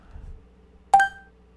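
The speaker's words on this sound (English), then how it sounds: "Pa-ding! Yeah, that's the noise you hear when you've activated a cheat." Cheat activation chime in the Warhammer III video game, a single bright, ringing ding that rises sharply and fades within half a second over a quiet background.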